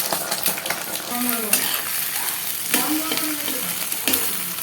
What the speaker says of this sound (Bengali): এবার ডিমের ভুজিয়াটা তৈরি করে নেওয়া হচ্ছে।